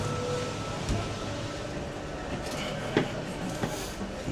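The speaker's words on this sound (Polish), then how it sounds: "Stary pociąg." An old double-decker train in Katoomba, New South Wales, hums and rumbles steadily, with occasional clacks and knocks over the running noise and faint voices in the background.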